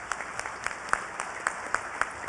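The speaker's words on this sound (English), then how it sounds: "So I'd ask you to give them a round of applause for the work that they do." Sparse, rhythmic clapping at a community breakfast gathering, individual claps distinct and fairly quiet, sounding like a smaller group applauding over a faint steady background hum.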